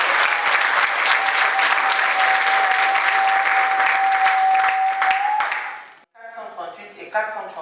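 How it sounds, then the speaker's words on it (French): Wedding guests at a Gabonese civil marriage ceremony break into loud, sustained applause with cheering, then the clapping cuts off and a voice starts talking. "Et ça mérite des acclamations"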